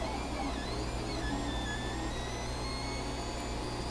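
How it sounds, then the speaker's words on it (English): An Ender 3 Pro 3D printer running, its stepper motors whining in shifting tones over a constant fan hiss, steady and close with no voices. "This may be the thing that saves this printer."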